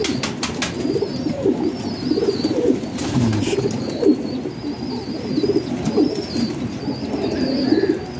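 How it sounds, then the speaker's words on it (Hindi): Pigeons coo softly and repeatedly in a loft, birds from a champion racing line, with occasional feather rustles and wing flutters among a steady murmur of several birds close by. "ये पर वगैरह झाड़ रहे हैं परिंदे"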